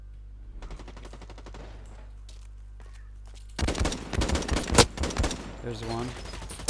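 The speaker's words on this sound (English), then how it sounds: "I'm getting shot at from above." Gunfire in Blacklight Retribution: after a quieter stretch with faint shots and a brief spoken line, loud rapid automatic bursts break out and continue in a dense volley.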